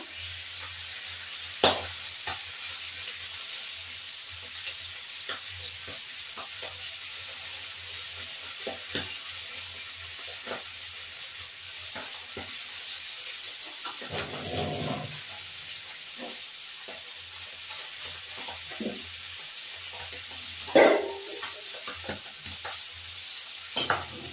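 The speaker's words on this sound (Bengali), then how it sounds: "মাছটা ভাজা হতে থাকুক, তারপর এবার এই মাছটাকে তুলে ফেলবো।" Fish fries in a pan with a soft, continuous sizzle and hiss, broken by occasional clinks, scrapes and stirring knocks, close and without talk.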